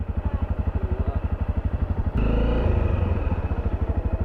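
Engine of a 2014 Honda CRF250L dual-sport motorcycle while riding, a steady pulsing thump that swells into a louder, denser roar halfway through as the throttle opens, close and continuous with no talk.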